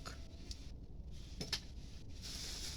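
A mixture is stirred in a container with a few light scraping clinks of utensil against the vessel, faint and sparse over a quiet background hiss.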